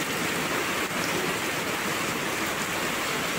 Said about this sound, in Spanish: cualquier cantidad de agua, pero con corrientadas de agua, lo que pasan aquí